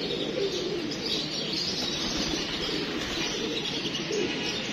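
Pigeons coo on a rooftop amid a steady wash of outdoor noise, with soft chirps and a brief flutter of wings, and no one talking.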